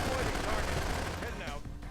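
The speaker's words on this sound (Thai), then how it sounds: "มันยิงปืนแบบนี้เนาะ" A soldier unit in the Rise of the East mod for a strategy video game fires its guns in a dense, rattling burst of gunfire that tails off near the end, with a voice faintly underneath.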